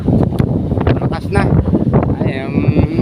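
Strong gusting wind at sea buffets the microphone in loud, rough bursts, with faint voices mixed in.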